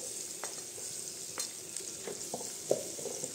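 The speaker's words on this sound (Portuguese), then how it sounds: "Fritar aqui cebola e alho." Onion and garlic fry in hot fat in a small pan, a steady sizzle with a few sharp crackles and stirring knocks scattered through it, close by with no talk.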